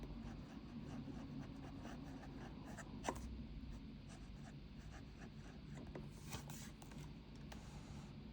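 A Parker 51 fountain pen scratches faintly across paper in soft, steady strokes, quiet and close, with a few small taps and shuffles.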